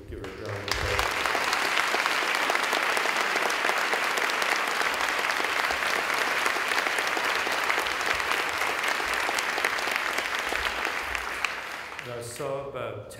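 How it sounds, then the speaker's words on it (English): Audience at a scientific symposium applauds Laura, Richard's wife, with a long, even wash of clapping that starts abruptly and holds steady before fading, followed by a voice at the end. "I'd like to give her a round of applause."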